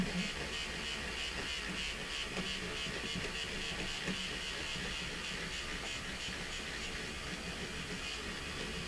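A stitch eraser runs against machine embroidery, clearing away stitches with a steady, close buzzing hiss that stays even throughout with no pauses.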